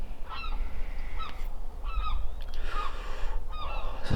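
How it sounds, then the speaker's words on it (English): A seagull gives repeated harsh, honking calls in several short bursts over steady low background rumble, clear and fairly close, with no talking. "There's a seagull here."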